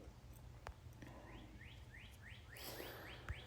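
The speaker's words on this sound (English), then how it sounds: "The birds are out." Birds sing outdoors in early morning light, a faint series of repeated rising chirps and a few sharp calls carried over a soft, steady background rumble.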